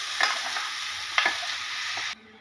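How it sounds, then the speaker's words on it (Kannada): Ground greens paste goes into a sizzling tempering of mustard seeds, onion and curry leaves, and is stirred, producing a soft close frying hiss with two scraping stirs before it cuts off. "ಈಗ ಸೊಪ್ಪು ರುಬ್ಕೊಂಡಿದ್ವಲ್ಲ ಅದನ್ನೀಗ ಆ್ಯಡ್ ಮಾಡ್ತಾಯಿದ್ದೀವಿ."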